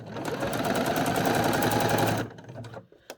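Sewing machine running a zigzag stitch over yarn for gathering a skirt, one steady rapid burst of whirring needle rattle for about two seconds, close and loud, then stopping with a few light clicks.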